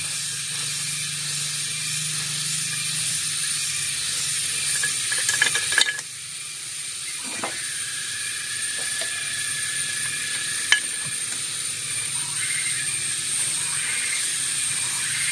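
Clutch bolts on a Honda Revo Absolute motorcycle engine being tightened, heard as faint metallic clicks and brief ratcheting against a steady background hiss, close by and without talk.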